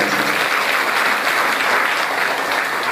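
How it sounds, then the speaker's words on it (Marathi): Loud, dense applause from an audience at a musical Shiva katha religious gathering in Ausa, steady and continuous without letup. "जोरदार टाळ्या वाजतात"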